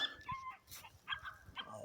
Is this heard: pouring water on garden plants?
no